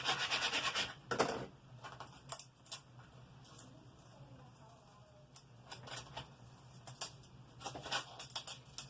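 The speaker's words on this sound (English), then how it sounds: "give it a good scrape" A plastic scraper rubs firmly back and forth over Cricut transfer tape laid on a small notepad, giving close, raspy scraping strokes in uneven bursts, loudest at the start and again near the end.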